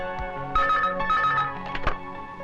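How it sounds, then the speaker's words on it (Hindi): A telephone rings indoors, bright repeated electronic trilling tones in short bursts over a low background, moderately loud, with a couple of dull knocks and no talking. "Excuse me sir, your phone."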